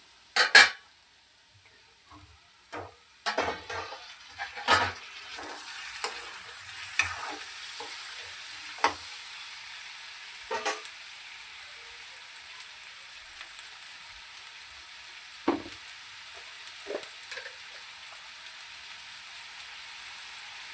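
Ginger pieces frying in a pan for an aloo masala curry, with tomatoes added, sizzling softly while a spoon stirs and knocks against the pan in scattered, irregular scrapes and taps, no voices.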